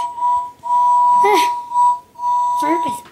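A voice imitates a toy train engine's whistle twice, a held tone broken by brief rising toots, in a spoken children's story about Thomas and Friends engines; narration-style speech surrounds it.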